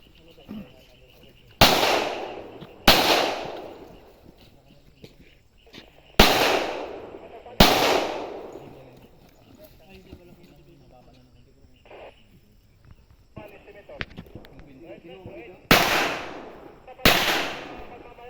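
Sharp, loud gunshot cracks from a shooting video game, fired as headshots, arriving in spaced pairs and singles with decaying tails, while faint chatter and background game sounds fill the gaps.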